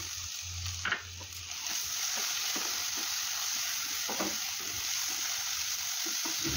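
Finely chopped tomato and garam masala fry in a pan for aloo matar pulao, giving a dense, continuous sizzle with a few utensil knocks near the start.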